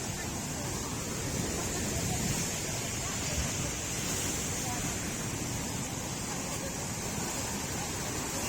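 Large ocean waves wash and roar continuously on the beach at a resort in Pagudpud, forming a dense, steady surf noise mixed with wind buffeting the microphone.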